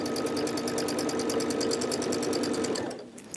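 Sewing machine stitching a quilt-as-you-go table runner runs in a loud, steady rapid mechanical chatter up close, then stops abruptly near the end.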